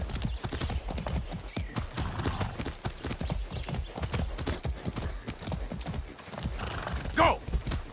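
Rapid hoofbeats of a horse in the video game Far Cry 6 pound in a steady galloping rhythm, with the horse whinnying loudly near the end.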